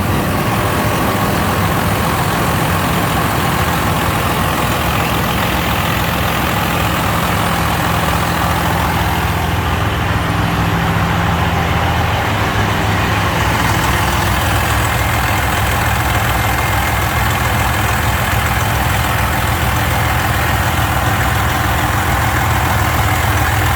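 A freshly assembled car with a tuned engine of about 550 horsepower runs at a steady, loud idle for the whole stretch, a deep continuous rumble with no clear cranking moment, and no talk over it.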